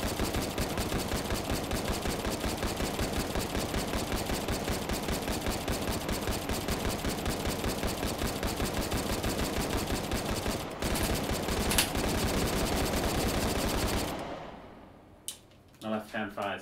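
Sustained rapid gunfire from a video game, Hot Dogs Horseshoes & Hand Grenades, with dense automatic bursts running almost continuously for about fourteen seconds before stopping abruptly, followed by a few isolated shots and faint talk.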